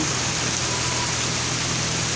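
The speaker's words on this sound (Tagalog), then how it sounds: "ramdam na natin guys ang napakalakas ng ulan" Heavy typhoon rain in Misamis Occidental pours down steadily and loudly, a dense unbroken wash of drops on surfaces with no voices over it.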